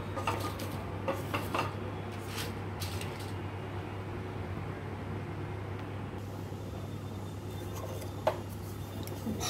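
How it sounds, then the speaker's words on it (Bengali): Fennel and cumin seeds dry-roasting in a pan for ghughni, giving a steady soft rasping and rubbing texture with occasional light scrapes and clinks of utensil against the pan, close by over a constant low hum, no talking. "মৌরি আর জিরাটা দিয়ে দেব। দিয়ে আবারও ভালোভাবে এগুলোকে ভেজে নেব।"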